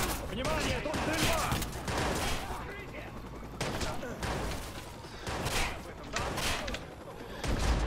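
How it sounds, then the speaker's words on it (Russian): Bursts of rapid gunfire in a shootout in the video game Watch Dogs, loud and close, coming in clustered volleys with short gaps between. "Внимание, тут стрельба!"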